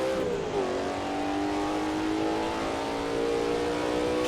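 Engine of an AC Legends GTC race car in a 1960s racing video game, steady and loud, its pitch dipping briefly early on before climbing smoothly through a sustained rev under load.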